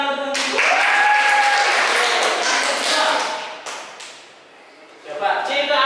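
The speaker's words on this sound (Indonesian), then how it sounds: "beri tepuk tangan" Students in a mathematics classroom clap together for a classmate, a loud burst of dense applause that swells, tapers off, and gives way to a teacher speaking.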